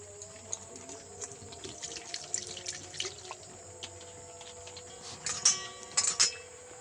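Pointed gourds are rinsed under a running tap, a steady thin stream of water with splashes, drips and light clinks from handling in a sink.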